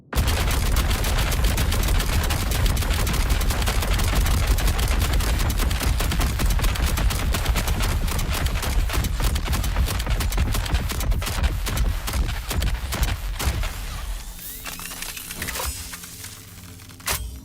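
Dense, continuous video-game gunfire from sustained shooting, loud and close, a rapid unbroken barrage for most of the stretch before thinning into scattered shots and fading near the end.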